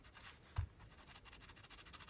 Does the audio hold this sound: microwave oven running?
no